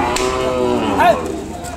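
Ongole cattle and calves at a busy Kodad livestock market give a drawn-out moo that rises and bends midway, over steady crowd murmur and voices.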